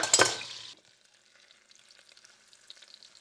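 A loud burst of frying sizzle as bacon hits hot beef tallow, fading within a second into a faint, crackling simmer.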